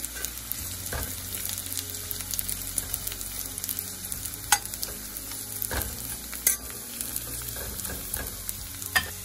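Raw turmeric and ginger pieces fry in a pan for gobi gajar pickle, giving a steady close sizzle with scattered crackles and occasional scrape of stirring, no voices.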